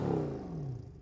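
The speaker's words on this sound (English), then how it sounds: "Let's have a listen to the old C63." An old Mercedes C63 Coupe engine revs loudly and up close, a deep, throaty roar that climbs and then falls away steadily over about a second.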